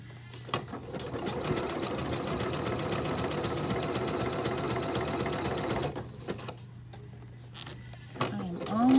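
A sewing machine stitches knit binding onto fabric in a rapid, steady run for about six seconds, then stops and gives a few short bursts, with a voice speaking faintly.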